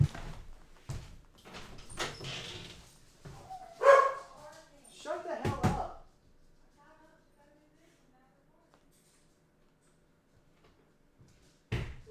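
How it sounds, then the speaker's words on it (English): Dogs bark in a few short, sharp bursts from somewhere nearby in a quiet room, separated by long stretches of near silence, with a person's voice heard briefly among the barks. "What the hmm hell are my dogs barking at?"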